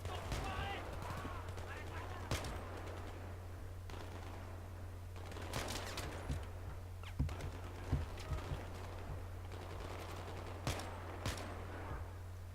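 Gunfire in the Battlefield video game: scattered sharp shots and short bursts crack out at uneven intervals over a steady low electrical hum, with some faint voices in the background.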